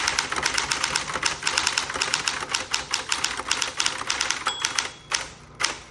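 Rapid, steady clacking of keys on a 1960s Electra 120 typewriter, loud and close, with a brief pause near the end.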